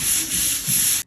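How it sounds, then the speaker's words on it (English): Sanding a skim-coated drywall wall by hand: a few smooth rubbing strokes, close and clear, scraping back and forth before stopping abruptly. "So now we're at the sanding process."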